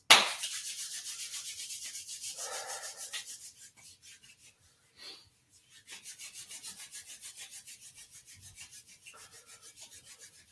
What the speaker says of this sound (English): so we're going to rub our hands together.